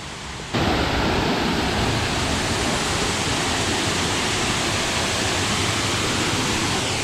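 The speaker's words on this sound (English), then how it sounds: "That's the waterfall." A waterfall roars loud and steady up close. It sets in abruptly after a quiet half second, then keeps a constant rushing wash with no voices over it.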